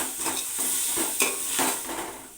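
Biryani being stirred in a pot just after curd goes in, with repeated scraping strokes and a steady sizzle of frying underneath, close and fairly loud, no voices.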